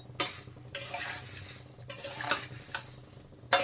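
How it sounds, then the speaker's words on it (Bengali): Spiced puffed rice (masala muri) is stirred and tossed in a pan, with several quick, close scraping and rustling strokes in an irregular rhythm and brief pauses between them. No one speaks. "দিয়ে এখন ভালোভাবে নেড়ে চেড়ে মিশিয়ে নেব"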